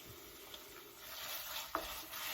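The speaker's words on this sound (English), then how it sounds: "just start stirring it in with the garlic and the shallot" Tomato paste being stirred into garlic and shallot in a hot pan for vodka sauce pasta, a quiet steady sizzle with soft scraping of the spoon and one brief clink, no talking.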